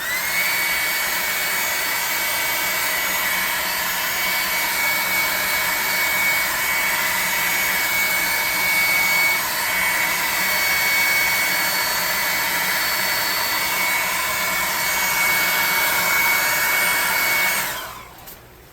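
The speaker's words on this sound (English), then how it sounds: "We're going to hit these with the blow dryer." A hair dryer blows steadily and loudly with a constant high whine while drying painted miniature stalagmite terrain, cutting off abruptly near the end.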